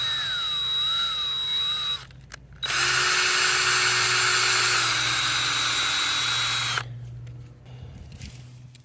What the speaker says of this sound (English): you can just put it in the drill, but go slow